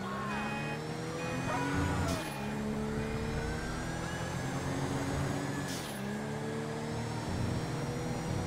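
Car driven in Grand Theft Auto 5, its engine humming steadily and rising and falling in pitch through repeated gear shifts, with whooshes of passing traffic and a continuous road rumble, with no talking.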